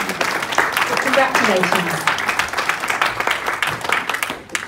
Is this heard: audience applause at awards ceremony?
yes